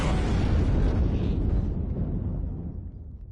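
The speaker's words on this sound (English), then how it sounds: "The Kestrel just took a missile hit." A missile strikes a ship in Ace Combat 5: a heavy, roaring explosion rumbles at full strength, then slowly fades over a few seconds, with no voices.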